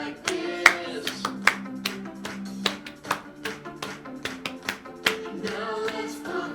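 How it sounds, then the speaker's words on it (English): Hands clapping in a rhythmic pattern, sharp distinct claps spaced through the stretch over a sustained musical backing with tonal notes, fairly close and clear. "Clap your hands like this."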